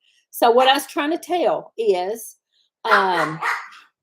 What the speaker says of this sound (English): Sorry about the dog. She's a yapper.